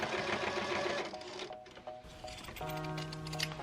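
Sewing machine stitching seam binding along the edge of a denim tote bag made from cut-off jeans, a steady close whirring run that pauses briefly and then resumes at a slightly different pitch.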